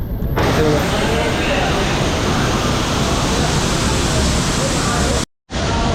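Hot spring water pouring into a bathing pool at a pilgrimage site, a loud, continuous broadband rush that holds steady throughout before cutting out briefly near the end.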